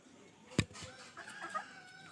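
A native hen clucks softly a few times in a pigeon house, brief low calls after a sharp knock, fairly faint and close with light background noise.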